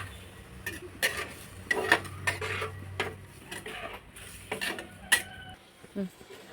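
A fish curry with tamarind water being stirred in a pot, a spoon repeatedly scraping and clinking against the vessel in an uneven rhythm, close and fairly loud, with no voices.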